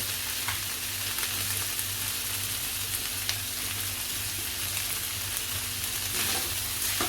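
Boiled potato bhaji with coriander being stirred and fried in a pan, a steady sizzle with soft scraping running throughout, close and even, with no voices.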